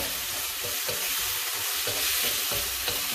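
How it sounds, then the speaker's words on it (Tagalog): Pork, onion and garlic sizzle in a pan for chopsuey, a steady, close crackling hiss with soft stirring scrapes throughout. "Ang sarap pakinggan nung pag-sizzle ng pork and yung onion and garlic."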